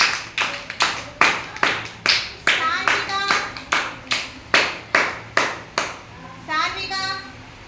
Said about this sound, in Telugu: క్లాప్స్ కొట్టండి పిల్లలందరూ